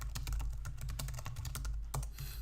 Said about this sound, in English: My keyboard might be a little loud.